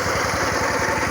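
Rotary mower tested after repair while cutting fairly tall grass with a 1.10 m cutting width, its engine labouring in a loud, steady throbbing drone with no talk.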